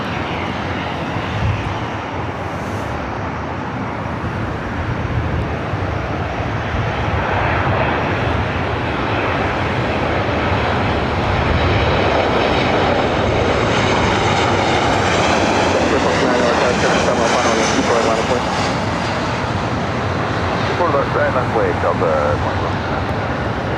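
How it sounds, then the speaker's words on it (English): Southwest Airlines flight 5907 from Phoenix lands at LAX, its engines a loud, continuous broadband roar that swells and sustains close by throughout. "Landing with Southwest Airlines flight 5907 coming in from the Valley of the Sun"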